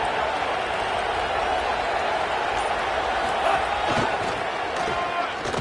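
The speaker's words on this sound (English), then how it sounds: "this crowd is ready." Dense, steady roar of a stadium crowd cheering before a big third down in a college football video game, loud and continuous throughout with commentary-like voices mixed in.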